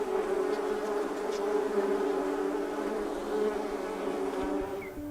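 A dense, steady buzz of many bees humming together at hives in Carcassonne, close and continuous throughout with no pauses.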